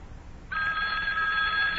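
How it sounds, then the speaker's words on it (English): Old telephone bell starting to ring, a sudden sustained bright metallic trill that continues steadily and clearly over faint background noise. "Oh, telephone's ringing."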